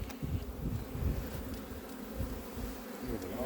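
Honeybees, including drones, buzz in an open hive: a close, continuous, wavering hum with swelling and fading tones from individual bees, with no talk.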